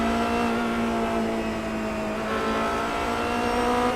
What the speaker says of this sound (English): then you get back on the throttle